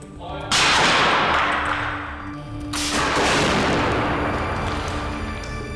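Gunfire test against a Royalite Company of Canada safe room wall system at Texas Tech: two loud, close blasts, each followed by a long decaying roar.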